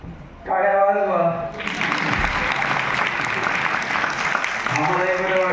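An audience at a state-level Junior IAS competition prize-giving ceremony in Latur breaks into loud sustained applause for a few seconds, with a speaker's voice before and after it.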